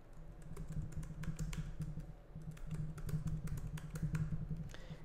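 Fingers tap out a password on a computer keyboard, a quick irregular run of light clicks close by in a quiet room.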